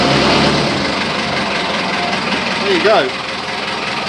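A boat engine idles out of gear, a steady mid-level mechanical hum with a slight rise and fall, while someone speaks briefly over it.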